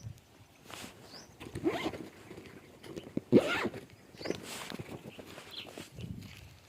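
A zipper is pulled closed on a bag holding a coconut, heard as several short, close rasping bursts amid quiet outdoor rustling.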